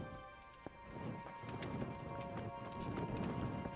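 Horse hooves clip-clopping on a street in the medieval video game Kingdom Come: Deliverance, a faint, steady walking rhythm of hoof strikes over soft ambient background noise.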